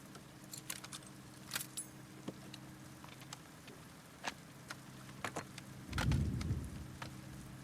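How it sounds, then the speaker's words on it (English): Rain patters and ticks with scattered drops in the game The Last of Us Part II, with a soft rumble of distant thunder swelling briefly near the end. "I love the distant sound of the thunder here and the present sound of the rain."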